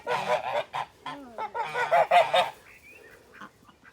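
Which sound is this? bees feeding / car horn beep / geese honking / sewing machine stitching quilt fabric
geese honking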